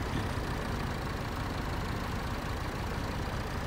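A tractor engine idles steadily in Farming Simulator 22, a constant low rumble that fills the whole stretch at moderate, even loudness with no voices.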